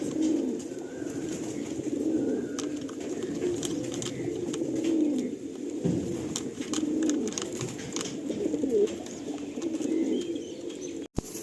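Magnet pigeons coo steadily inside a pigeon loft, a dense, continuous layer of overlapping low burbling calls from several nearby birds with occasional faint chirps, and no talking.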